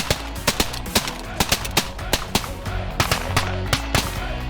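Shotguns blasting repeatedly during a duck hunt in the snow, sharp loud reports in quick irregular succession from several guns, some shots overlapping into rapid volleys.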